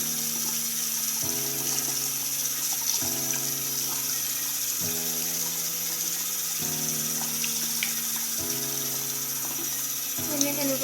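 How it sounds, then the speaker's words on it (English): A tie-dyed T-shirt is rinsed under a running tap, water streaming steadily with a recurring tonal hum stepping through repeated segments, no talk. "Then you're going to run it under the water for a bit longer."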